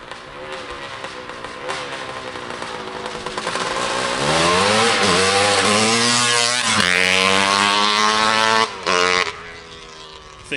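A 1973 Suzuki TM250K motorcycle accelerates hard, its two-stroke engine whining higher and louder as it closes in, holding a shrill rasp before a brief drop and a fresh surge.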